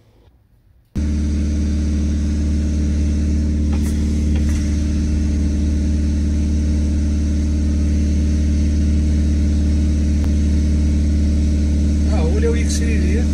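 A 2018 Peugeot Boxer 1.6 HDI BlueHDi van with NOx sensor work on its emissions circuit starts up, then idles loud and close with a steady drone, engine speed creeping up on its own, while someone talks over it.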